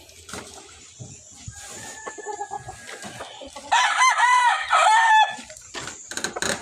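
Hens cluck and call nearby, with a burst of loud squawking in the middle, over soft rustling and handling noises.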